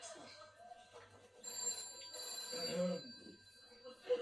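A telephone rings with bright, repeated electronic trills while people talk over and between the rings at close range.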